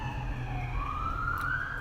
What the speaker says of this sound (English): Is an ambulance going by?